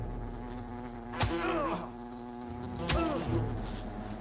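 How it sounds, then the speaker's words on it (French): Wasps buzz steadily in Fable Anniversary at a picnic area, a continuous insect drone with two louder swooping passes up close, without speech. "Les guêpes attaquent la zone de pique-nique."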